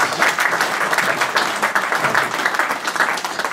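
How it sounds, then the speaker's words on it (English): A lunch-function audience gives a round of applause, sustained, close and lively clapping with slight swells over several seconds. "Give you a round of applause for that."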